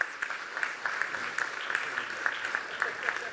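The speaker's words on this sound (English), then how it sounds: "let's give a round of applause for our panelists" A conference audience at a summit on governing AI and online spaces claps for a panel, a steady moderate wash of applause with a few sharper hand claps standing out throughout.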